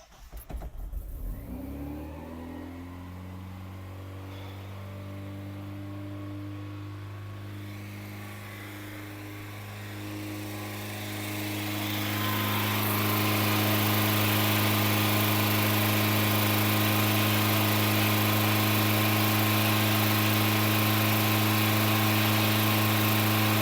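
A Ford Ranger engine cranks briefly and catches, then idles steadily. Around twelve seconds the engine rises to a louder, higher-revving steady drone, heard close up with no talking.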